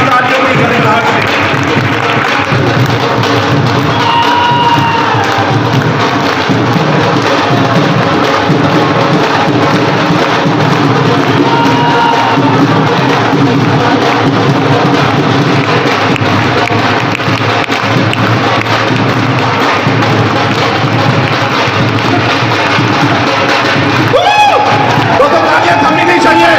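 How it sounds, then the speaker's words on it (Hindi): Loud, sustained applause and cheering from a large audience at a stage event as a guest, Dr. Sumit Batra, is welcomed up, a dense continuous crowd roar that holds steady for the whole stretch. "दोस्तों तालियां थमनी नहीं चाहिए, जोरदार तालियां, जबरदस्त क्लैप।"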